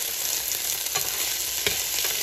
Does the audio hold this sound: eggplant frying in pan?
yes